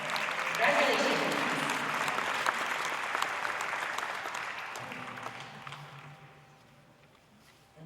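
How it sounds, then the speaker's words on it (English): An audience at a dairy cattle show applauds a grand champion red and white cow with steady, moderately loud clapping that tapers off gradually, with a low hum and some faint voices underneath. "Let's have a big round of applause for our grand champion red and white"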